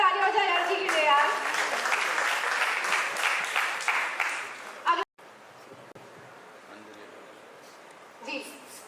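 An audience at a celebrity press conference for the Taarak Mehta Ka Ooltah Chashma cast claps loudly and steadily for about five seconds, then stops abruptly, leaving quiet room noise with a brief murmur of voices near the end.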